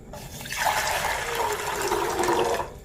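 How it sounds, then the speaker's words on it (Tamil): Water pours from a tumbler into a saucepan on the stove, a close, loud gushing splash that starts abruptly, runs steadily for about two seconds, then stops. "2 டம்ளர் அளவு வந்து தண்ணி சேர்த்துக்கோங்க."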